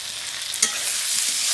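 Salted spices being stirred in a frying pan for a light rohu fish curry with pointed gourd, a soft continuous sizzle broken by one sharp scrape of the spoon.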